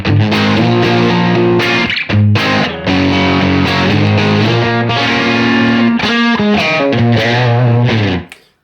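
Crunchy overdriven electric guitar playing sustained chords and riffs through a Marshall amp model, loud and continuous with brief pauses between phrases.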